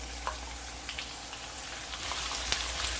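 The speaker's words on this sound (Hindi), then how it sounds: "ये ऑयल में जिसमें हमने भिंडियाँ फ्राई की हैं इसमें डाल देंगे अपने प्याज।" Sliced onions added to hot oil left over from frying okra, giving a faint, steady sizzle with light scattered crackles.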